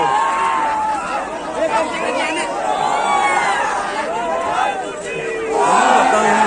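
At a bullock cart race, a large outdoor crowd roars and shouts excitedly. Overlapping whoops and cries rise and fall in dense swells, with a louder surge at the end.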